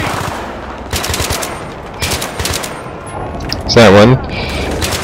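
Gunfire in Battlefield 3, with several loud rapid automatic bursts from close range separated by short pauses, and a player talking briefly between them.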